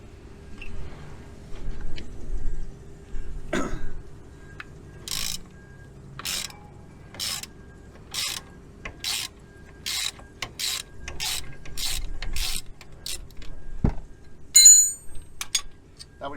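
Rapid bursts of ratchet clicking as brake caliper bolts are wound out on a Eurobox car's front brakes, a dozen or so short runs of clicks with pauses between, close and clear, ending with a metallic clink.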